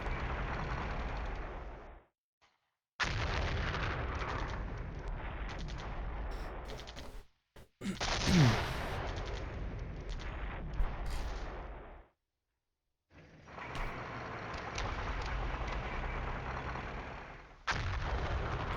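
Artillery fire in the Flashpoint Campaigns wargame: long stretches of heavy, rumbling booms and barrage noise, broken by short silent gaps, with no talking.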